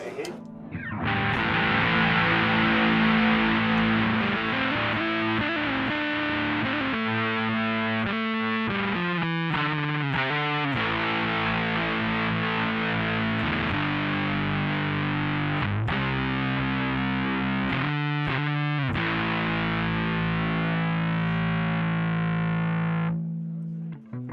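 A heavily distorted electric guitar plays sustained chords and riffs with a thick, saturated tone, continuous and loud with brief choppy breaks.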